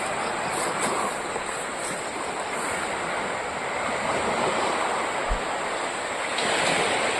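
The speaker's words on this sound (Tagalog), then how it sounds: "Tapos ayan, merong dagat." Sea waves wash steadily against an island shore in a continuous broad roar with wind mixed in, sustained and fairly close.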